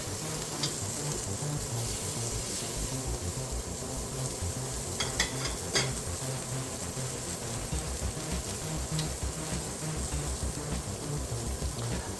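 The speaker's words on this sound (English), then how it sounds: "The sauce is barely simmering, so it's just a light heat underneath." A sauce barely simmering over light heat in a pan during cooking of wild game appetizers, giving a steady soft sizzle with faint bubbling that stays even throughout, plus a few brief clinks of utensils.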